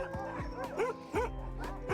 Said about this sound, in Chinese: 雪橇犬纷纷发出兴奋的叫声，有的像狼嚎一般。